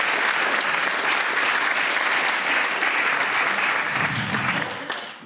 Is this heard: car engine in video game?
no